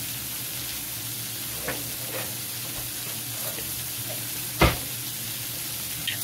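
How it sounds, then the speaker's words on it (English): Pork tenderloin sears in a hot pan with a steady, moderately loud sizzle and hiss. A single sharp clack from handling the meat or pan stands out partway through. "So anyway, sear it up. Sear them."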